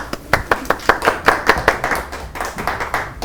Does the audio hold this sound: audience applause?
yes